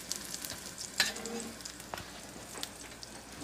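Steady, soft sizzling and crackling of chicken frying in a pan, with a few louder pops and a brief stirring scrape.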